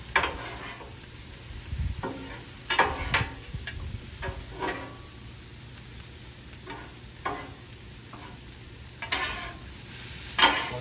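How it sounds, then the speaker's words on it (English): Chicken fried rice with soy sauce sizzles softly in a pan while a utensil stirs and scrapes it in irregular clicks and taps, quiet and close, with no talking. "And we're going to give everything a good stir again."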